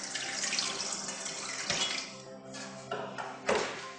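Hot water poured from a kettle into a bowl, a steady splashing stream that swells, falters and surges again, close and clear with no one talking.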